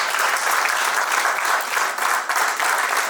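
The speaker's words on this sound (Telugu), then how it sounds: "అందరికీ గట్టిగా చప్పట్లతో అభినందనలు" An audience at a Telangana SC/ST industrial chamber of commerce event breaks into loud, sustained applause, a dense unbroken wash of many hands clapping close by throughout.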